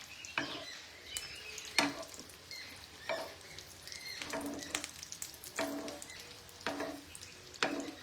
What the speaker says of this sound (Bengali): আমি কোফতাগুলোকে ভাজছি।